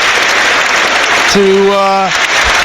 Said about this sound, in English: waves to the crowd and gets a standing ovation all around us